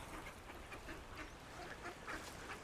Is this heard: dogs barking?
no